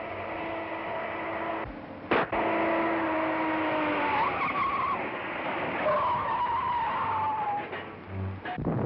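Car tires skidding during a chase in a 1932 film, long squealing screeches over a rumbling engine, with a couple of sharp shots, somewhat muffled and old-sounding.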